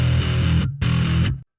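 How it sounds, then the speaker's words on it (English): Bass guitar played through the plexi distortion on a Sonicake Matribox II Pro, two gritty, saturated notes, close and loud, with a brief gap between them before the last one cuts off abruptly. "A plexi distortion."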